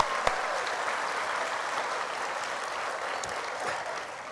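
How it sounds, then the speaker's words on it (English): Applause from a school junior assembly audience, a steady dense wash of clapping from many hands that holds at an even level throughout, with no one speaking over it. "So I think you should give them another big round of applause."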